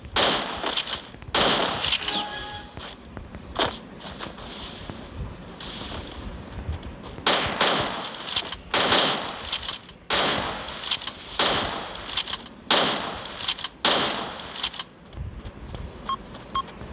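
Shots from an M590 pump shotgun in a mobile battle-royale shooter ring out as several sharp, separated bursts over a steady game backdrop, with gaps of a second or more between reports.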